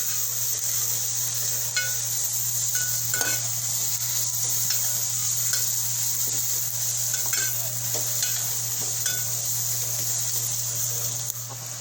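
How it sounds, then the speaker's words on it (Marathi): Onion sautéing in a pan for a Malvani-style mushroom dish, a steady close sizzle with scattered stirring scrapes and light clinks against the pan, over a constant low stove hum, no talking. "कांदा थोडा परतून घेऊ गॅस थोडा बारीक करून घेऊया"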